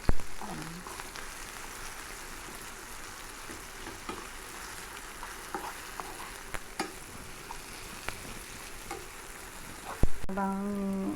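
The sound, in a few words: stirring shrimp paste frying in pan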